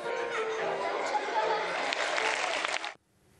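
A young audience at a performance bursts into sustained applause mixed with laughter and chatter, loud and steady for about three seconds before cutting off abruptly.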